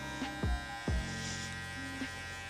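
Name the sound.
electric hair clipper buzzing with lever open during fade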